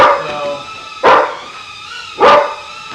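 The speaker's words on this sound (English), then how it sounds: "Jack, the dog does not like the drones." A dog barks at a small Beta FPV drone flying nearby, giving a few sharp, loud barks spaced about a second apart with a faint background hum between them.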